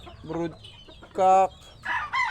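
A rooster clucks and gives a short crow, three separate calls with brief pauses between, close and clear against a quiet background.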